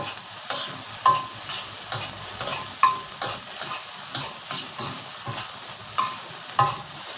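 Shrimp paste fried rice with mackerel is stir-fried over high heat, a constant loud sizzle with regular sharp scrapes and taps of a spatula against the pan, close and without talk.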